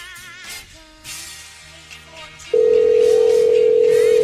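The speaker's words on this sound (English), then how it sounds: "Pick up the phone." Telephone tone on a call: after a couple of seconds of talk and background sound, a loud, steady, unbroken line tone sets in and holds to the end.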